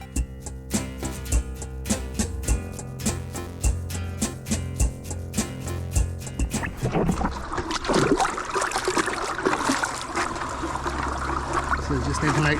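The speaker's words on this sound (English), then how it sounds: "I'm going to clean up my sluice now." Water rinses through a gold sluice on a highbanker, trickling and splashing steadily up close. A rhythmic clatter comes first, then a louder rush of water takes over.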